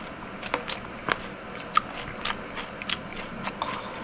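Crunchy bites and chewing of a Burmese tea leaf salad with garlic, a series of close, faint crisp crunches spaced irregularly, with no talk.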